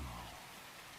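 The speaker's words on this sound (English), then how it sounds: "it's raining a lot right now" Heavy rain falling in an anime scene, a dense steady hiss filling the whole short stretch with a brief low rumble at the start.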